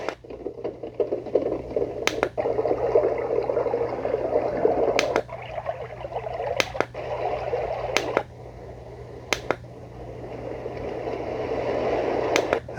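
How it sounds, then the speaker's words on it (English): Steady rain recording played by an Easysleep white noise machine, a continuous soft watery hiss with faint patter and a few sharp clicks scattered through it. "Rain."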